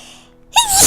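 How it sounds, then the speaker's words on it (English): A single short sneeze bursts out loud and close after a moment of near silence, with a rising breathy onset. "Sneeze!"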